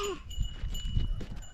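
A goat on a farm gives a short bleat close by, followed by low rustling and shuffling.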